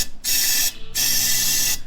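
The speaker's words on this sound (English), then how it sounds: "we're going to start off with this air compressor" An air compressor nozzle blasts air to clear debris from a long-stored 1966 Ford Galaxie with a 390 big block, in two long loud hissing bursts split by a short pause.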